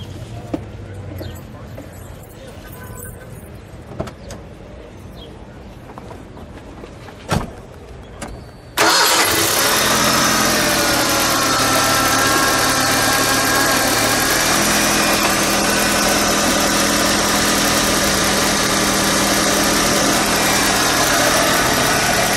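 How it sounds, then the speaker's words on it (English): A 1985 Ford Mustang SVO turbocharged engine cranks and fires at about nine seconds, settling into a loud, steady idle that holds close and continuous to the end, with quiet handling noises and brief talk before the start. "Let's fire it up, shall we?"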